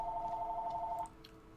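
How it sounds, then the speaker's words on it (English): In a strategy game, a telephone rings with a steady electronic trill for about a second, then stops, leaving a low hum. "That phone is not shutting up today."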